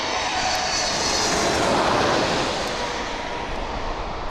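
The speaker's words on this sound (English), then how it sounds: "Amazing aircraft. Tomcats." Tomcat jet aircraft engines roar loudly and steadily from a played recording, a dense, continuous blast with a slight swell around the middle and no voices.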